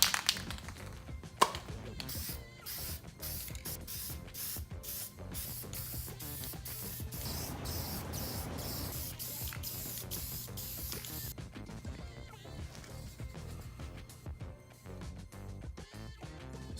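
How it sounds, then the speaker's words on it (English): Aerosol spray paint hisses onto rusty car parts from a Subaru Forester being reassembled, first in quick repeated bursts, then one long continuous spray, then short blasts again. "I'm just going to flip them over and spray them on the inside, and then spray them on the outside."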